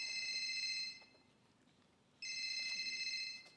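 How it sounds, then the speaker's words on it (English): A telephone rings with a steady electronic tone in two bursts, separated by a short quiet gap, fairly faint and with no talk over it. "Answer the goddamn phone, Teresa."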